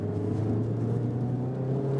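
A Mazda MX-5 Miata facelift accelerating in second gear on a mountain road, its engine a steady, fairly muffled drone heard from inside the car, holding a high, even pitch.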